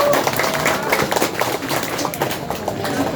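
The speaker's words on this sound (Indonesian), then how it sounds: "tepuk tangan." An audience claps at a religious gathering honouring a newly chosen young village head, uneven bursts of hand claps over a low murmur of the crowd.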